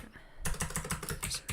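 Fingers type code on a computer keyboard, a rapid burst of close, crisp keystroke clicks that starts suddenly and runs on in an uneven patter.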